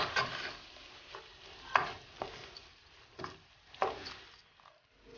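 Tomato paste fries in a pan under a soft, low sizzle while a spoon stirs it, giving several distinct scraping strokes at irregular intervals, close but fairly quiet, with no voices.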